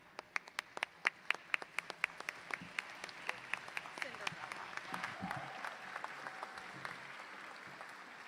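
Applause for inductees at an Alpha Chi college honor society ceremony. A few distinct, loud claps ring out at first, then a fuller, softer crowd patter builds and carries on, somewhat distant in a large room.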